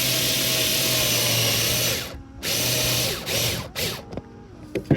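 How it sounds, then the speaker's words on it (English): A power drill bores through a 2011-2016 Scion tC plastic fog light housing, a loud continuous whine that stops, restarts, then breaks into short bursts and stutters near the end. "And you're just gonna drill."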